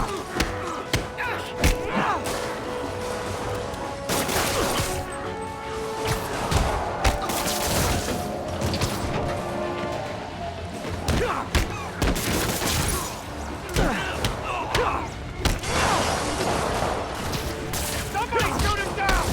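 Rapid gunfire from shooters in a Spider-Man video game, loud bursts of shots, crashes and thuds filling the scene almost continuously, with shouting voices over the action.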